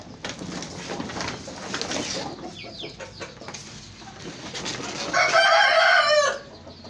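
Aseel roosters and hens inside a rooftop poultry shed: overlapping clucks and chatter, then one loud, close rooster crow rising near the end, with no speech.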